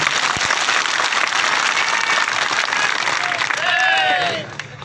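Applause and cheering from a large crowd at a BJP political rally fill the whole clip, a dense continuous roar of clapping with crowd noise, fading slightly near the end.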